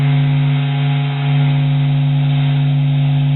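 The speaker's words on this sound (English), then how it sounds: "Waves are constantly traveling and bouncing around inside the sun, and this is the sound of it." Sonified waves bouncing around inside the sun form a loud, steady droning hum with strong sustained tones and a dense rough wash over them, unchanging and without any voices.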